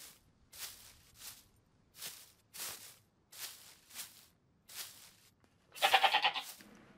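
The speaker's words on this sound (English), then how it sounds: "that goat, the audio is like right there for the goat" In the video game SCUM, a nearby goat bleats in short, evenly spaced bursts, ending with a louder, wavering cry.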